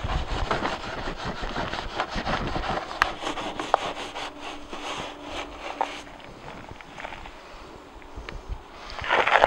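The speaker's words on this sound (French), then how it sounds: "On va y aller avec la brosse pour les pneus." A brush scrubs the tires of a dark-coloured car during a wash, making repeated close, rough back-and-forth rubbing strokes that fade toward the end and then swell again.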